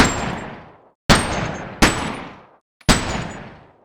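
Four single gunshots from an ordinary handgun in the VR game Boneworks, each a loud sharp crack trailing into a long decaying echo, spaced unevenly about a second apart with no voices.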